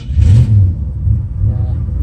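A 1963 Ford Falcon's cold engine rumbles heavily as the car maneuvers out of a garage, a loud close low drone with a few uneven throttle surges.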